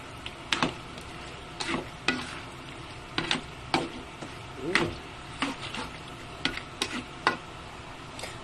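A spoon clanks and scrapes against a pot as pasta is stirred for creamy sopas, with irregular close metallic taps over a soft sizzling background.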